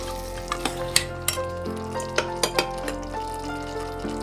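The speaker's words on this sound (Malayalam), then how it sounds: "ഇത് വീണ്ടും ഇതിനകത്ത് കട്ട കെട്ടാതിരിക്കാൻ വേണ്ടി ചെറുതായിട്ടൊന്ന് ഇളക്കി കൊടുക്കാം" Yogurt being stirred into mutton curry in a pressure cooker, with a soft steady sizzle and several sharp spoon clinks and scrapes against the pot, no voices.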